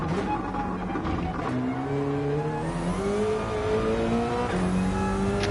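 A Ford Mustang race car in Gran Turismo, played on the Nürburgring 24-hour layout, drones with a continuous engine note that rises and falls through gear changes. It is steady and loud, with no talking.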